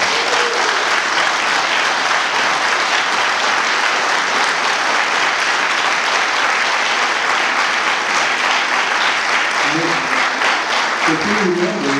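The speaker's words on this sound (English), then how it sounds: "Let's give Bruce and Carla a great round of applause." A theater audience applauds steadily for a dedication at the Broadway Theater in Rock Springs, dense loud clapping filling the whole stretch, with a voice briefly rising near the end.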